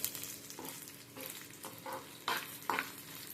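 Gongura leaves frying and being stirred in a pan, a soft sizzle broken by several scraping stir strokes, faint and close.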